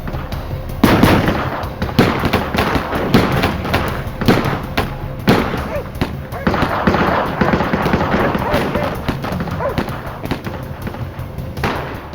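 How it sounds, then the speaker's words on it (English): Gunfire crackles through a reenacted shootout between armed agents, officers and a dug-in gunman in woodland, with sharp shots and bursts repeating unevenly over a steady background, some louder nearby. "Emerging from the woods, agents Abbott and Buckley saw officers being fired upon"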